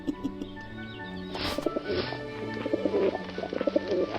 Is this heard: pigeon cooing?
yes